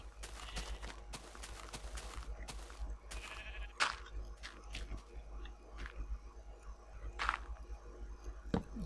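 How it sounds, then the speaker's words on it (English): Sheep in Minecraft, with short bleats scattered among clicky footsteps and block sounds, fairly faint game audio with a few sharper bursts and no talking. "There's a lot of sheep around."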